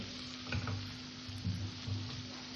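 Potatoes fry with poppy seed paste in a pan over low heat, a soft close sizzle with brief bursts of stirring scrapes, quiet and without speech.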